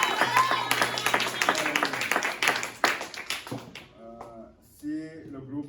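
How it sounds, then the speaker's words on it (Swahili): A church congregation claps during a Sunday service, with dense, loud applause for a few seconds that thins into scattered claps before a voice takes over near the end. "Vous applaudissez pour vous-même."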